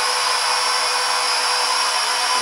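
A Snaptain S5C beginner drone spins up its small motors for an automatic takeoff, a constant high-pitched whine with a steady hiss, close and loud, with no talking.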